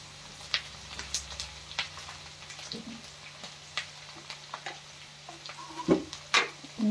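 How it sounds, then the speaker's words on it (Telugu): Onions with green chilies frying in a pan give a soft, steady sizzle, broken by scattered clicks and taps from stirring, most frequent and loudest toward the end. "కొంచెం ఆనియన్స్ ఫ్రై అయ్యే వరకు ఇలా వేయించుకోవాలి"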